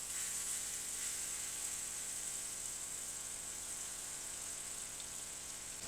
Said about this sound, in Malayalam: എണ്ണ ചൂടാകുന്നുണ്ടെങ്കിൽ നമുക്ക് ഇത് ഓരോന്നായിട്ട് വെച്ച് വാർത്തെടുക്കണം.